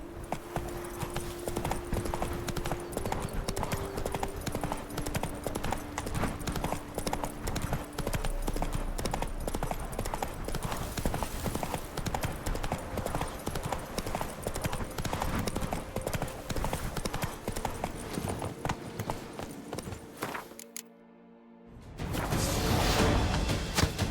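Hooves gallop in a fast, steady clip-clop rhythm as a horse runs in The Witcher 3, loud and continuous for about twenty seconds, then cut off by a brief silence before a louder burst of game sound.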